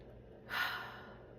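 A single deep breath drawn in through the nose, soft and close, rising quickly and then easing off over about a second.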